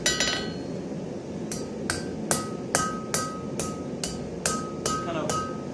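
Sharp metallic hammer strikes on a round metal bar over an anvil ring out at a steady rhythm, about ten blows, each with a bright clang over a constant background rumble.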